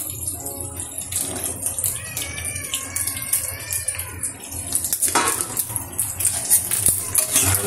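Potato and eggplant pieces dropped into a boiling Bengali hilsa fish curry, with soft splashes, bubbling and clinks of a utensil against the pot at close range.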